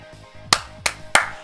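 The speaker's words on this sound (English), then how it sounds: "Clap, clap, clap, clap, clap." Hands clap three times at a steady pace, each a sharp, close burst over a quiet background.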